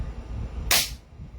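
A single sharp airsoft VSR sniper rifle shot fired through a chronograph, a crisp bright crack close by that stands out alone above low background rumble.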